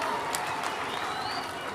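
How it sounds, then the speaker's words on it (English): A graduation crowd at Machakos University's Graduation Square claps for the university, a steady dense wash of applause that holds evenly throughout with no voices standing out. "Why don't we clap for Machakos University?"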